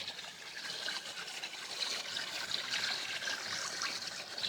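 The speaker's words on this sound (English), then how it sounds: "It is creating the water to circulate better in the top pond and helping to break up any loose algae." Water trickling and circulating steadily in an outdoor koi pond in early spring, a continuous close splashing wash with no voices.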